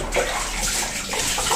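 Hot water pours steadily into a bath in a steady, loud, close rushing stream that runs without a break.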